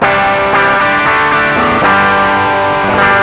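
With the drive knob turned all the way up on an Ibanez TSMINI Tube Screamer Mini overdrive, an electric guitar sounds thick and heavily saturated. Sustained strummed chords ring out loud and dense, with a few picked accents and no talking.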